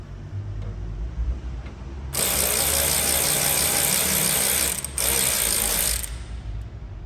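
A ratchet with a T15 bit turns out the hood latch screws on a 2022 Chevrolet Silverado, a quiet lead-in giving way to a loud, close, rapid ratcheting clatter for about four seconds, broken by one brief pause.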